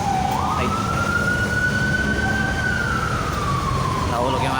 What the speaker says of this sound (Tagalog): may dumaang ambulansya